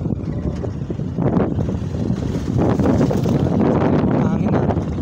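Strong wind buffets the microphone in a constant low roar, with faint muffled voices underneath.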